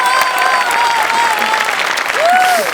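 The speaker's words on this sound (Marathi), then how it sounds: "इथं जोरदार टाळ्या टीमसाठी." Studio audience applauding a comedy team on a Marathi sketch comedy stage show, steady loud clapping throughout with a faint tonal sound riding over it.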